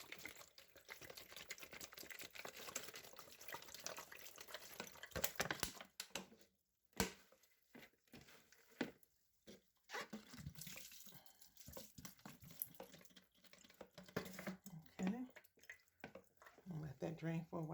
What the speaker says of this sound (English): now I'm just going to give it just a final rinse.